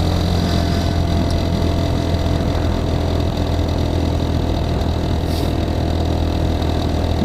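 Geon X Road light 250 motorcycle ridden through town, its engine droning steadily and loudly at close range with broadband road and wind rush throughout, no talk.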